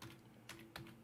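Typing on a computer keyboard while building a spreadsheet: a few soft, close key clicks spaced apart, quiet and alone without voices.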